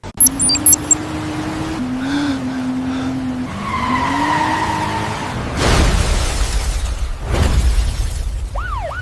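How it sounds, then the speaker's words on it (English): A computer-generated car crash plays out loudly: a sustained engine drone and tyre skid, then two heavy impacts with crumpling metal and shattering side-window glass, no voices. "The metal crumples naturally upon impact, the side windows shatter into realistic glass particles"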